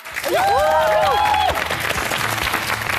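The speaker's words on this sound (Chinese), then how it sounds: "接下来，让我们掌声邀请上海广播电视台副台长吴倩入场。" A studio audience applauds to welcome a guest onto a television stage, a loud sustained wash of clapping with cheering whistles rising over it, fading slightly toward the end.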